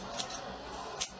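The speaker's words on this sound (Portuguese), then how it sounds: "Ó, acertando aqui, cortando aqui." Two sharp scissor snips about a second apart, cutting wool yarn to shape a teddy bear, close and clear over a quiet room.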